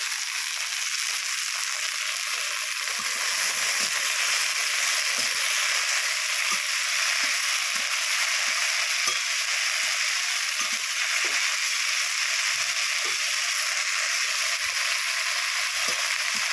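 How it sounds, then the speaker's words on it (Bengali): Drained flowers fry in a wok with a steady, bright sizzle, joined by faint scattered spatula stirs, close and continuous. "এবারে কড়ার মধ্যে সবগুলো দিলাম, দিয়ে খুন্তি দিয়ে নাড়িয়ে নেব।"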